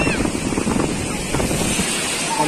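Ocean waves washing onto Nevre beach, a broad rushing surf roar mixed with buffeting wind on the microphone, steady and fairly loud throughout.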